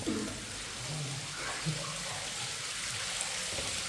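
A waterfall inside a tunnel gives a faint, steady wash of rushing water, heard as a constant hiss from a distance with a few small knocks and splashes.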